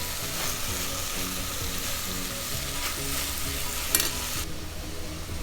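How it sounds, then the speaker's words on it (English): Carrot and beans sambhar is stirred in a pot, giving a continuous close bubbling sizzle with the scrape and slosh of stirring throughout. "stir it well. Make sure you mix it and toss it every time."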